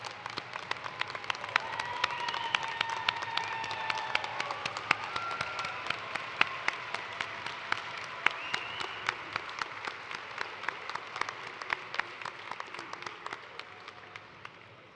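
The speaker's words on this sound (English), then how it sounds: "Please, all of the family, supporters, everybody stand up so we can give you a round of applause." Steady audience applause at a college nursing convocation ceremony, a broad wash of clapping from a large crowd with distinct individual claps standing out, moderately distant and gradually fading.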